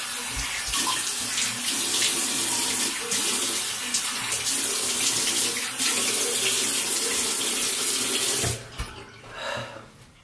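Tap water runs steadily into a sink for about eight seconds while a face is rinsed during a wet shave, then the flow cuts off, leaving a few drips and splashes.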